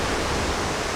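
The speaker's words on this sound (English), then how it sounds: "Now we're at the main waterfall," A huge main waterfall in New York roars in a dense, steady wash of broadband noise, close and loud with no break.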